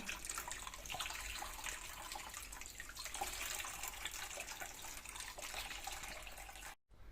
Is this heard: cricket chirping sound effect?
no